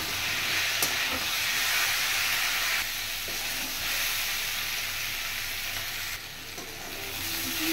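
Boiled green jackfruit fries in a pan with salt and turmeric, a continuous close sizzle and hiss with occasional scrapes and stirring knocks, steady throughout with no talking.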